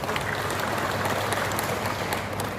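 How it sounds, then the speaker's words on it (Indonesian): An audience applauds for PGRI Central Java at a halal bihalal gathering, a dense, steady wash of many hands clapping that stays even throughout, heard from some distance. "Aplaus untuk PGRI Jawa Tengah."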